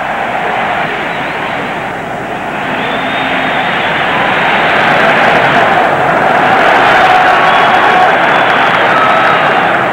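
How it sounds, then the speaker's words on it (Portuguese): Stadium crowd at Beira Rio in Porto Alegre during a 1999 Brazil versus Argentina friendly, a broad sustained roar of many voices that swells toward the end as the wave sweeps around the stands, with a commentator's voice faintly underneath. "E a torcida faz uma ola maravilhosa aqui no Beira Rio"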